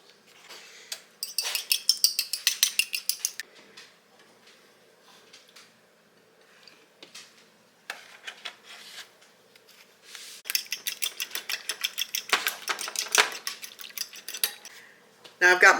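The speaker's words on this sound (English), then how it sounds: "I'm going to be adding just a little bit of milk in with this egg, and I'm going to get it mixed up so that we can get it scrambled." An egg and a little milk being beaten in a bowl: quick, rhythmic clinking strokes of utensil against the bowl in several bursts, separated by quieter pauses, close and clear.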